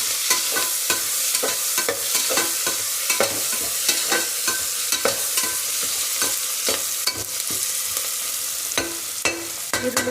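Onions with turmeric frying in a pan, a steady close sizzle broken by frequent rhythmic scrapes and clinks of a spoon stirring against the metal, no talking.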